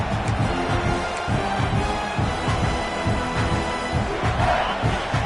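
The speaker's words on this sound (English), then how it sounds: "This crowd trying to make life miserable for this offense." A packed football stadium crowd roars steadily in a dense, sustained wall of noise throughout, loud and continuous with no talk over it.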